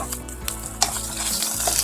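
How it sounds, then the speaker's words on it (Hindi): Grated bottle gourd roasts in oil in a pan over a medium flame for lauki halwa, hissing in a steady close sizzle while a spoon stirs and scrapes against the metal with occasional clinks. "इसमें इसको भूनेंगे, ज़्यादा तेज चूल्हे पे भी ना कीजिएगा, दरमियाने चूल्हे पे से भूनेंगे।"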